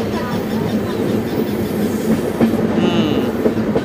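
A train runs along the Visakhapatnam to Araku Valley line with a steady, continuous rumble of wheels on rails, close and fairly loud throughout, with no voices over it.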